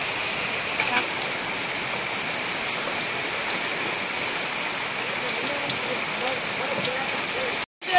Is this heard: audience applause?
no